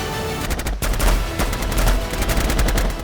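Loud bursts of gunfire from indiscriminate shooting inside a hospital ICU ward in Patna, rapid repeated shots crackling one after another for several seconds with no voices.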